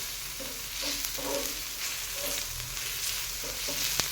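Onion frying on a large 30 cm cast iron tawa, a steady close sizzle with bursts of stirring and scraping, no voices.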